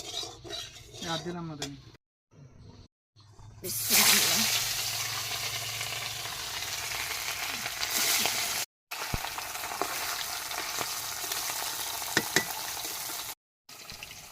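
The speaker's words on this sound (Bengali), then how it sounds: "আর মাছ ভাজা করবো" Fish frying in a pan, with a loud, steady sizzle that starts a few seconds in and runs with brief breaks, along with occasional utensil scrapes and clinks.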